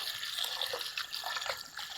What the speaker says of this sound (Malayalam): ഇനി ഞവര അരി നന്നായിട്ട് കഴുകി എടുക്കട്ടെ.